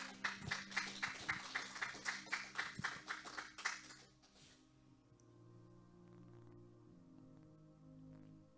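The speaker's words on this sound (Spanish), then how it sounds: "Puede darle un aplauso al Señor." A church congregation applauds in a burst of rhythmic, fairly distant clapping lasting about four seconds, then fades into a quiet room with faint low murmur.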